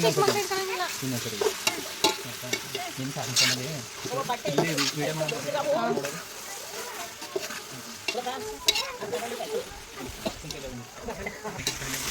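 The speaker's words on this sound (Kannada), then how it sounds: "ಈಗ ಫ್ರೈ ಆಗ್ತಿದೆ. ಒಂದು 5 ನಿಮಿಷ ಆಗಿ ಫ್ರೈ ಮಾಡ್ಕೊಳ್ಳಿ ಟೊಮೊಟೊ." Tomatoes frying in a pot on a village wood-fired stove for biryani, stirred with scraping and clattering strokes over a crackling sizzle, with people talking close by throughout.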